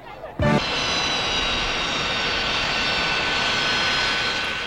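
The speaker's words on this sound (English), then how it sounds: "Wheeling, West Virginia, the third stop of the day for the Reagan campaign jet, Leadership 80." A jet airliner, the Reagan campaign plane Leadership 80, roars loudly and steadily on arrival at Wheeling, West Virginia, its engine whine holding after a brief thump at the start.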